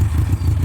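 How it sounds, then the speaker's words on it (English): A Yamaha XJ900S motorcycle engine idles steadily up close after inlet rubber replacement, a dense low rumble with no talk over it. "Starting on the button, she's idling really well."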